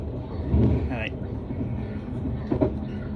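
Train running along the line past a maintenance depot after a tunnel, a steady low rumble of wheels and carriage noise heard from onboard, continuous throughout with a brief higher squeal, while a person talks over it.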